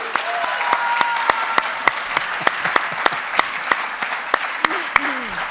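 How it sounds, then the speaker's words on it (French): Sustained applause from an audience at a ballet event, steady dense clapping with a few sharper individual claps standing out, fairly close and loud, with faint voices underneath. "On peut l'applaudir, en effet."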